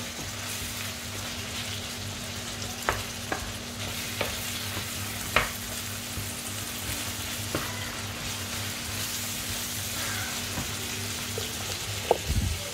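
Meat frying in a pan while batch-cooking a homemade family meal: a steady sizzle with occasional sharp clinks and scrapes of a utensil stirring, no voices.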